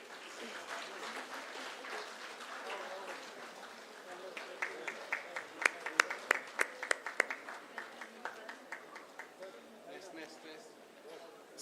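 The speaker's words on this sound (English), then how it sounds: "Please keep on clapping." An audience claps at a school foundation day celebration, applause building with a run of sharper, distinct claps in the middle before easing off, with voices murmuring beneath.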